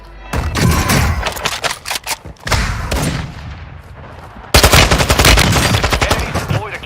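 Gunfire from the video game Warzone 2: loud, rapid bursts of automatic fire that stop briefly and then resume with heavy, sustained shooting.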